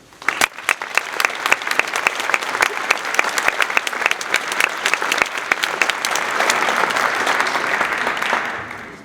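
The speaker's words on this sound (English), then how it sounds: "please join me once again to applaud our new National Honor Society members" An audience at a National Honor Society induction ceremony applauds the new members, sustained loud clapping with sharp individual claps that builds and then tapers off.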